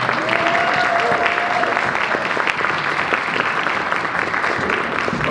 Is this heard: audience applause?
yes